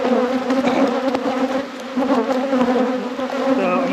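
Honeybees from a strong hive buzz loudly and continuously during an inspection, a dense steady drone with slight swells as the insects swirl close by.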